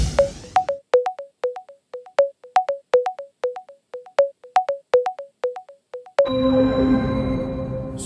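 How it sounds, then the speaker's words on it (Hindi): Telephone ring-back tone as a call is placed on the KBC quiz show: a steady train of short electronic beeps repeating in quick rhythm for several seconds, clear and alone, then giving way to a brighter sustained connection sound. "कंप्यूटर महाशय, सोनाली रे जी को फोन लगाया जाए"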